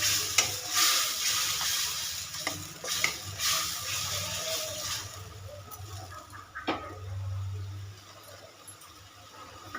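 A paste of ginger, garlic, tomato and onion fries in oil with cumin seeds for a village-style eggplant masala, a steady sizzle broken by stirring scrapes and utensil knocks, without speech.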